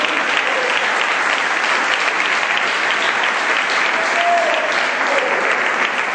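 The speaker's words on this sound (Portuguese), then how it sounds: "vamos aplaudir esse Deus maravilhoso" A church congregation at a youth service applauds loudly and evenly, a thick wall of clapping hands that holds at full strength without a break.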